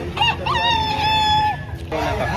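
Black Cross of Boston breed rooster crowing at a poultry market, one loud, close, drawn-out crow with a rising start and a long held tone, over a background of other birds and murmuring voices.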